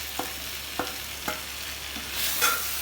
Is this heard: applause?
no